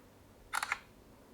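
A FiGi Note 1 phone camera takes its first selfie, letting out a short, quiet burst of shutter clicks in a quiet room.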